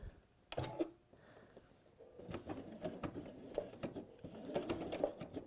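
A home sewing machine stitches forwards and then straight back over the seam, giving a faint, close mechanical chatter with uneven bursts of rapid needle clicks.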